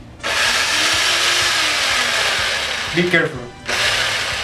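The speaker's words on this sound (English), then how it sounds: "Then just have to mix the ingredients with an electric mixer." An electric mixer whirs steadily through kitchen ingredients, switching on abruptly, holding a loud even buzz for about three seconds, then cutting off; a voice speaks briefly near the end.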